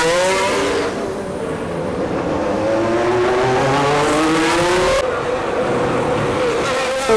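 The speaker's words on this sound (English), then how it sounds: "right now the race is currently going on behind me" Formula 1 race cars scream past the pit lane exit one after another at a final race, loud high-revving engines rising and falling in pitch with overlapping passes.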